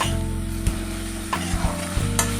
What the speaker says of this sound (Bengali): এবার মশলাটা খুব ভালো মতো কষিয়ে নেব